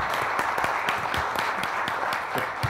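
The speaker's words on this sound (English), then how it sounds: "give you a round of applause" Audience applause at a panel discussion on federal debt, a steady wash of moderate clapping from a seated crowd, fairly even in level throughout.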